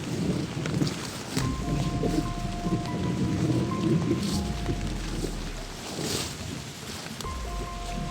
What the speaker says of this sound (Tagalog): Medyo maulan mga idol,